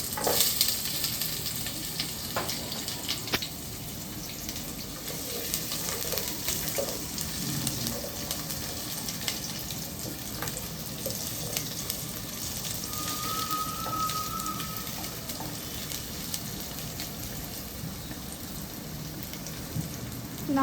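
Chopped onion sizzles steadily in a hot pan for a Kerala vegetable stew, a continuous close frying crackle with occasional faint stirring clinks and no voices.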